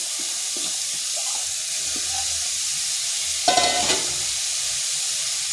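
Cauliflower pieces fry in a wok with a soft, steady sizzle, interrupted by a few light clinks and a brief louder scrape of stirring near the end.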